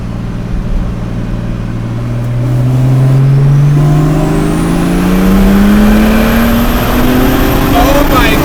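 A 400hp turbocharged BMW E12 with an M30 engine accelerates hard, its engine note rising steadily in pitch with a turbo whine climbing above it, loud and close from inside the car.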